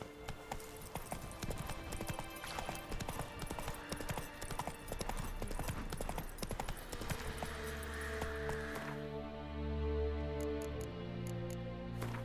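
Horse hooves clip-clop steadily at a trot in The Witcher 3 video game, a continuous rhythmic beat over low game ambience and hum, with the pace shifting near the end as music tones come in.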